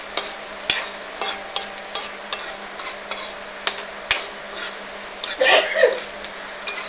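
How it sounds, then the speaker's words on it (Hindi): Tomato and spices sautéing in a pan while a home cook prepares shahi paneer, with a steady soft sizzle, scraping stirs and light clinks of a utensil against the pan. "अब इसको भूनिएगा"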